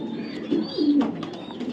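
A male Milly Pied racing pigeon coos close by in a few soft, low throaty phrases with brief pauses between them.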